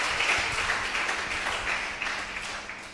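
A church congregation claps together in a dense, sustained wave of applause at moderate loudness that tapers slightly toward the end.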